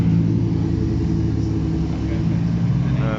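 A Ferrari 488 supercar at a car club meet rumbles close by with a steady, loud, low engine drone and no clear rise or fall, with speech faintly present.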